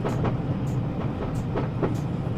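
A train running on the line between Manchester stations, a steady rolling rumble with periodic clickety-clack beats from the wheels over rail joints, continuous and fairly close.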